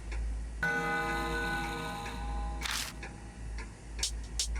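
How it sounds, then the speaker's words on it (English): An old pendulum clock in a video game whirs and chimes in a sustained ringing tone as its long hand is spun, followed by a few sharp clicks, close and clear. "When I spun the long hand, the clock makes a noise."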